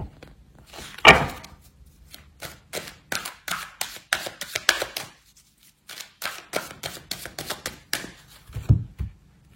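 A deck of tarot cards is cut and handled, producing a series of close, crisp card slaps and riffling flicks in irregular bursts with brief pauses between them.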